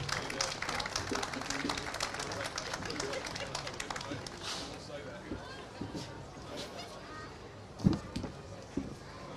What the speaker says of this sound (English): So a round of applause for Michael Fitzgerald, please.